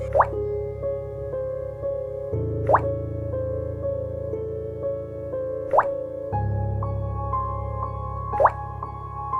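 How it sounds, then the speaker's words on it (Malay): Water dripping slowly from a closed tap at night, four single plops spaced about three seconds apart over a steady low background drone, close and distinct. "Bunyi titisan air tu jatuh begitu lambat, macam paip yang dah ditutup tapi masih menitis perlahan-lahan"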